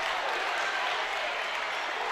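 A crowd at a boys' high school basketball game, Ledyard at Fitch, applauds after an athletic block, giving a short, dense burst of clapping and cheering at steady volume.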